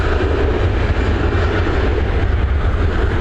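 An Airbus A320 departs Dublin Airport from runway 28L in the evening, bound for Amsterdam, a steady, loud broadband jet roar with deep low rumble holding constant throughout, no talk over it.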